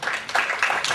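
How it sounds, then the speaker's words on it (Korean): Audience applause in a conference hall welcoming a presenter at a Korean information security policy forum, a steady wash of clapping for about a second with no talk over it. "박수로 맞이해주시기"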